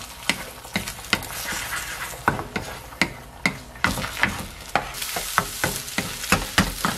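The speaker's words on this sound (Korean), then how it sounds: "스크램블을 만들어 주겠습니다." Beaten eggs scramble in a hot oiled frying pan, a steady sizzle broken by rhythmic sharp scrapes and taps of a utensil stirring against the pan, close and fairly loud with no talking.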